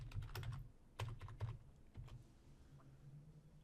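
Password typed on a computer keyboard during an Azure AD Connect setup, soft clustered key taps in short bursts with pauses, quiet and close in a silent room.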